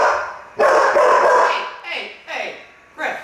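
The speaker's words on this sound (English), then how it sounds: "We don't need any barking" Dog barks in a few short bursts close by, loud and irregular, mixed with people talking.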